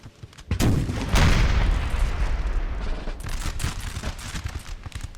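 Canister artillery fire in the video game Napoleon Total War, with a sharp opening blast followed by a sustained rolling barrage of cannon and musket-like cracks that stays loud throughout.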